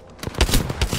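EVA-8 shotgun fired in Apex Legends, several sharp blasts in quick succession over a busy game-combat background, loud and close.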